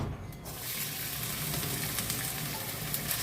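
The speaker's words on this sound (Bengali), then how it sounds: "প্রথমে আমি এই কড়াটা সরু সরু করে কাটা আছে, এটা আমি ভেজে নেব।" Thin slices of bitter gourd fry in hot oil in a pan, a close, steady sizzling crackle with light stirring, no voices present.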